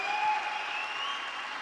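Audience applause fills a live show as a steady wash of clapping, fairly loud and continuous throughout with no voices over it.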